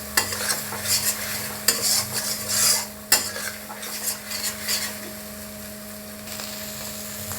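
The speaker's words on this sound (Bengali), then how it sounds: "দিয়ে এটাকে একটু মিক্স করবো ভালো করে মশলাটার সাথে" A spoon scrapes and stirs spice paste with a little sugar in a frying pan for Bengali chingri posto, soft sizzling beneath repeated close scraping strokes with an occasional sharp clink of metal against the pan.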